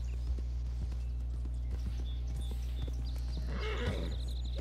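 Horse hooves clop steadily at a walking pace in Red Dead Redemption 2, with a brief neigh near the end, all fairly quiet over a constant low hum and no talk.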